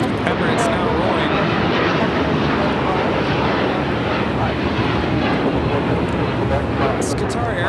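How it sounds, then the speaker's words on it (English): A Qatar Airways Airbus A350-1000 takes off from LAX bound for Doha, producing a loud, steady broadband engine roar that fills the whole stretch without letting up. "It's Qatar Airways 740 taking off to Doha on the A350 1000."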